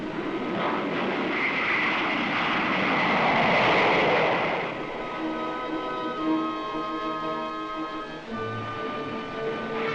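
Jet aircraft noise from F-100 fighters landing at an airbase in Iran amid blowing dust, a loud continuous roar that swells toward the middle and then eases into a steady whine, with no talk.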